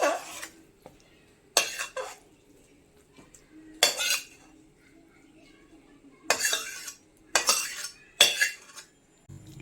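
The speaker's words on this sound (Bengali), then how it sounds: "এবার খুন্তির সাহায্যে থালার চারিদিকে ডালের পুরটা দিয়ে দেবো।" A metal spatula scrapes and clinks against a metal plate while spreading lentil (matar dal) filling for dhokar dalna, several separate sharp bursts over a quiet background, close by.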